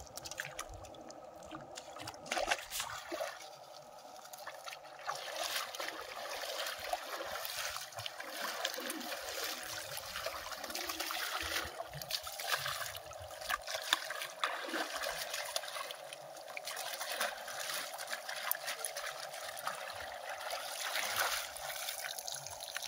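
Freshly caught river prawns and fish are washed in river water, with steady splashing, swishing and trickling close by, continuing without a break and with no talk.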